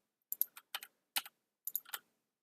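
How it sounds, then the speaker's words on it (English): Typing on a computer keyboard: a few sparse, light clicking keystrokes in small bursts, close but quiet, in an otherwise silent room. "I'll just type in localhost."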